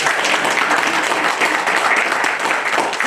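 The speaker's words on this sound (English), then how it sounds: "Can we give him a hand clap?" Dense applause fills the room, a steady roar of many hands clapping with no break.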